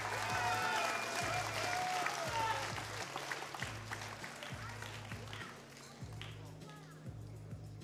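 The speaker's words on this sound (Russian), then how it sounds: "поддержите бойцов аплодисментами!" Arena crowd at an ACB mixed martial arts event applauding the fighters, a broad wash of clapping and crowd noise under a pulsing background beat, loud at first and easing slightly as it goes on.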